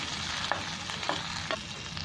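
Homemade tomato puree, made from boiled tomatoes and Kashmiri chilli, sizzles steadily in a hot pan, with a few soft scraping stirs breaking through the constant frying hiss.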